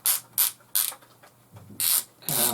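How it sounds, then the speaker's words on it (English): Close-up plastic clicking from the temperature dial of a Tefal clothes iron being turned, bursts of ratcheting clicks in quick succession with short pauses between them. "clicky sound as you move it around"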